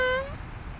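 A domestic cat gives a single short, close meow that fades quickly into quiet room tone.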